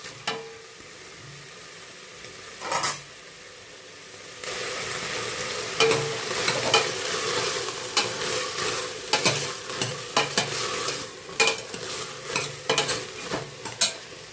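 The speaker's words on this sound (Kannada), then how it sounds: "ಸ್ವಲ್ಪ ಫ್ರೈ ಆಗಲಿ ಇದು." Ingredients for a fresh field bean, fenugreek leaf and potato sambar fry in a pan. A quiet start gives way to a loud, continuous sizzle punctuated by repeated scraping stirs.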